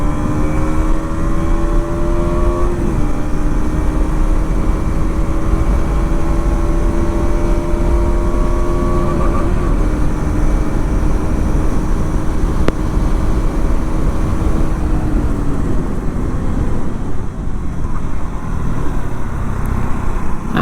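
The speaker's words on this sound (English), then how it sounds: "let's give a small pull on the KTM Duke 200" A KTM Duke 200 motorcycle engine accelerates hard on an open road, its pitch climbing steadily through several gear changes with brief dips between, loud and close alongside constant wind rush.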